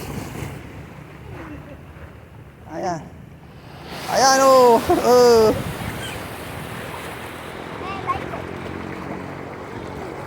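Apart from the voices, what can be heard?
ocean waves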